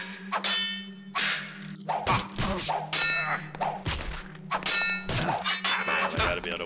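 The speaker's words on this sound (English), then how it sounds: "he hit the gong" A gong struck over and over in the stealth game Thief Gold, bright metallic clangs ringing in a rapid, uneven series, loud and close with thuds mixed between the hits.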